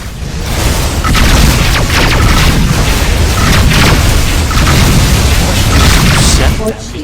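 Missile explosions in the space combat game Rebel Galaxy, a loud, continuous roar of booming blasts and rumbling bursts that fills the whole stretch with little letup.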